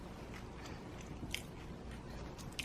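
Crunchy pizza crust being bitten and chewed during a pizza and ranch mukbang, soft close-up crunches and wet chewing in a quiet room, with a few sharper crisp bites standing out.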